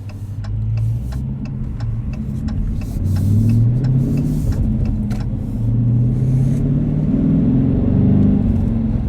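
A deep, rumbling 2019 Dodge Challenger R/T Shaker with six-speed manual revs up and pulls away, rising in pitch through the gears with a throaty, close-miked growl.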